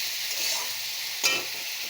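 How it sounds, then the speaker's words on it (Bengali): Tomato frying with spices in a pan, giving a steady close hiss of sizzling with a single sharp scrape or clank of stirring partway through. "দিয়ে একটু ভালো করে ভাজা করে নেব, মানে মশলার সঙ্গে কষিয়ে নেব আর কি।"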